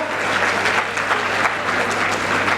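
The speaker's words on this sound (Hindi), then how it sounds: "एक बार अपने लिए जोरदार तालियां बजा लीजिएगा" Steady, dense applause from the audience at a Hindi kavi sammelan poetry gathering, continuous and fairly loud throughout with no break.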